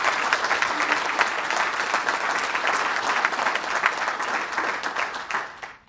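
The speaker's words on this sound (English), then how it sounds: "let's give a round of applause to both Mary and Rita." An audience at a Lima Rotary Club changing-of-the-guard meeting claps in a steady, dense round of applause that holds for several seconds before tapering off near the end.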